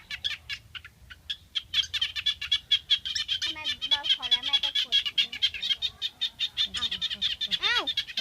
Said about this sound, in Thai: ลูกกบมันจะเสียงนี้